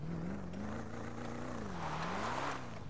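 Engine of the Albany Virgo car in the video game GTA V, a steady, loud low rumble holding close and continuous with a slight wavering rise and fall in pitch, no voices over it.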